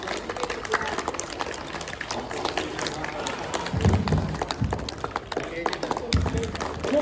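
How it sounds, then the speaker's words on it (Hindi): Schoolchildren clap at a Republic Day celebration, with scattered, uneven applause continuing under a mix of voices and chatter, fairly faint and somewhat distant. "तालियां बजती रहनी चाहिए बच्चों।"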